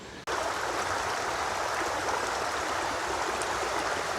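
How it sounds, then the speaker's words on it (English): Flowing water of a stream on a nature walk in Newmarket, a steady, broadband rushing and gurgling that holds at an even level throughout, with no voices over it. "Flowing water, peeps. With a sound."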